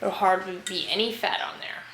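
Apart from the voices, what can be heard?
No everyday noise stands out behind the speech.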